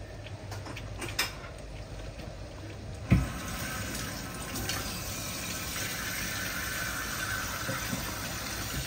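Tamarind water is poured into a simmering fish head curry, giving a faint, steady liquid trickle with a small splash, heard close in a quiet kitchen.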